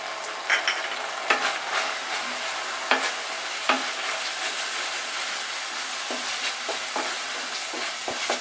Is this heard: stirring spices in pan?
yes